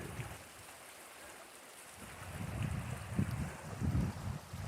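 Creek water flows outdoors with a continuous rushing hiss that swells into louder low gurgles and splashes partway through, with no voices.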